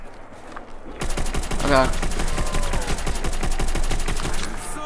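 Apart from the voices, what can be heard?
gunfire in Call of Duty Zombies video game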